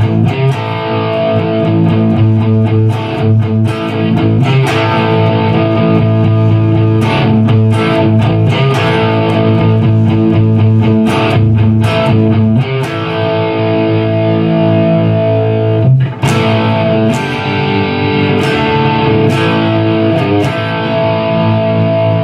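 Distorted electric guitar plays the bridge of a rock song, loud power chords strummed continuously for over twenty seconds, close and with no voices over it.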